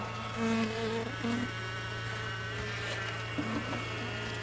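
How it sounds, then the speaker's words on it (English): Close buzzing of honey bees during a colony removal, with a steady low drone and a few brief higher whines, continuous and without speech. "Just a couple field bees."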